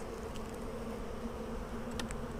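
Honey bees buzzing around an open Flow Hive during a colony split, a dense, steady, close swarm drone with a few brief higher knocks, no voices.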